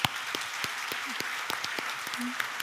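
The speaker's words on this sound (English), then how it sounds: "please join me in a round of applause for our panelists here today for an inspiring discussion." Scattered audience applause for panelists at a summit plenary session, sparse distinct claps with a murmur of voices beneath.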